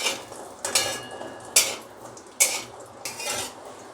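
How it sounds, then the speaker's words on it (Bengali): Cashews and other nuts fry on low heat in a pan while a metal spoon stirs and scrapes, sharp clinks every half second or so over a faint sizzle. "এর মধ্যে আমি কাজুগুলোও দিয়ে দিলাম, একসাথে ভাজা হবে দুটোই বাদাম"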